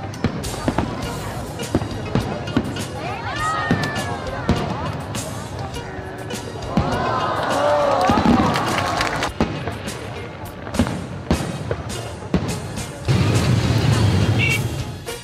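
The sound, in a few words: New Year's Eve fireworks and street crowd in Saigon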